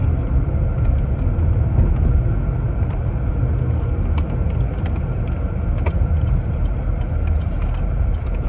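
A parked car's engine runs in the heat with a constant low rumble heard from inside the vehicle, steady and unbroken, with only faint faraway noises above it.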